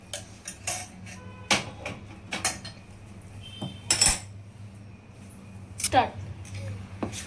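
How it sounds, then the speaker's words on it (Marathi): A spoon clinks and scrapes in a bowl while hot melted ghee, milk and sugar are mixed into flour for shankarpali dough, irregular light taps and scrapes over a low steady hum, with someone talking. "एखाद्या चमच्याच्या किंवा कलथ्याच्या साहाय्याने हे मिश्रण व्यवस्थित गरम असल्यामुळे व्यवस्थित मिक्स करायचं आहे"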